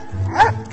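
A person imitates a dog, giving a short, close bark-like yip in a comic sketch that quickly rises and fades.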